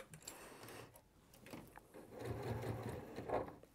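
Sewing machine fitted with a wide walking foot stitching fabric, a steady close-up mechanical whir and rhythmic needle thumping that rises slightly in speed, heard alone without talking.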